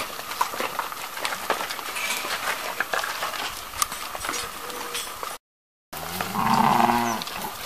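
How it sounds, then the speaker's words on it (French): A young calf at an organic farmers' market in Pau lets out a low moo near the end, following several seconds of busy market hubbub and clatter. "Et le petit veau à côté."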